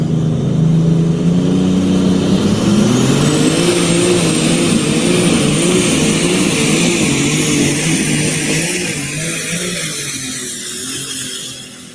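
Tractor pull with Elmer driving Eleanor on a Friday-night track, engine roaring loud and steady with wavering pitch changes throughout, easing slightly toward the end.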